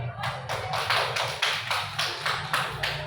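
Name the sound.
classroom applause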